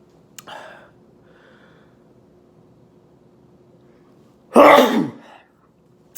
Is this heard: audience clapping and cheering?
no